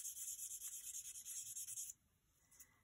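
A nail file rubbing along a fingernail edge, rapid rhythmic rasping strokes, close and crisp, for about two seconds before stopping into near quiet.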